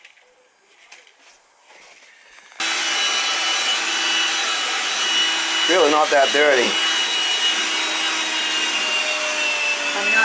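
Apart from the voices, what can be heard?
vacuum cleaning an old central AC unit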